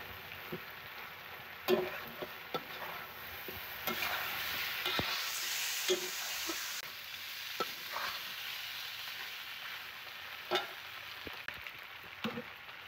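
A spoon stirs creamy chicken adobo with mushroom in a pan, giving scattered scrapes and knocks over a soft steady sizzle, close and fairly quiet, with no voices.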